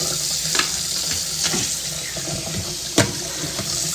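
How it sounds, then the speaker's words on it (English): Water runs steadily from a tap during a 30-second drain flushing check at a property inspection, a continuous hiss with a few sharp clatters and knocks over it, no talking. "What I should do is a quick check on what we call the 30 seconds flushing"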